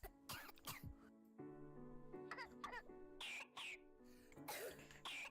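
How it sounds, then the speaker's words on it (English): Children cough harshly in raspy bursts, several hacking fits separated by short pauses, close and rough-sounding. "Why am I listening to children coughing?"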